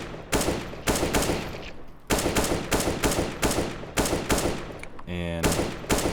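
Rapid gunfire during PUBG aim-training practice, with loud close bursts of shots in quick rhythmic groups separated by short gaps and a brief buzzing tone near the end.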